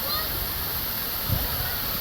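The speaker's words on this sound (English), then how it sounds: "That's the best part, except for the splashes." Shower water sprays and splashes in a steady, close hiss, with a brief louder splash near the end and light voices under it.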